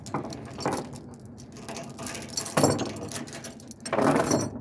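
Steel trailer tie-down chains being unwrapped, producing close metallic jangling and rattling in a few bursts, with softer clinks between them and no speech.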